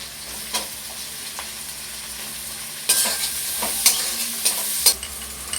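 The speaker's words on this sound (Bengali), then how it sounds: "এবার দিয়ে দেবো পেঁয়াজ কুচি" Chopped onion added to curry leaves frying in butter and oil, a continuous sizzle with several sharp spatula scrapes and stirring knocks in the second half, no talking.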